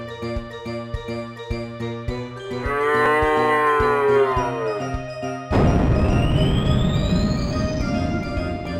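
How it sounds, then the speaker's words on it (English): A cow moos in the DOS video game Guilty: a long, loud synthesized bovine call over a repeating chiptune-like beat, followed by a burst of noisy game effects and a rising tone. "Did that cow moo on me?"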